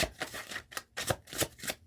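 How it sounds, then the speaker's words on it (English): Tarot cards shuffled by hand in quick riffling bursts, several rapid papery flurries separated by short pauses, close and fairly soft, with no talking. "I'll give one more shuffle."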